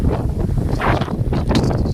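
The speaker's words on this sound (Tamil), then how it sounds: "காற்று பயங்கரமான காற்று." Strong wind gusts steadily at the north gate of a temple, a loud, constant roar with surging rushes throughout.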